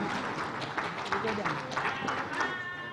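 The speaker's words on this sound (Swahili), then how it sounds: "Makofi mengi sana." Crowd applause at a press freedom day celebration attended by Tanzania's President Samia, steady dense clapping filling the space for the whole stretch at moderate loudness.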